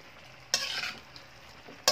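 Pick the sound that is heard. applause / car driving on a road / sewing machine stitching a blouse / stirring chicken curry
stirring chicken curry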